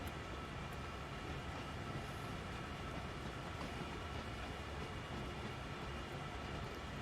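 Coal train rolling along Horse Shoe Curve in the Train Sim World 2 game, a steady rumbling, clattering rail noise that stays even and continuous throughout, with no talk over it.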